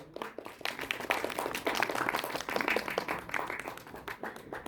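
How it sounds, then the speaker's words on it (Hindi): Audience applause at a mushaira literary gathering at IGNCA in New Delhi, a steady patter of many hands clapping at moderate level, somewhat distant and continuous throughout. "जोरदार तालियां"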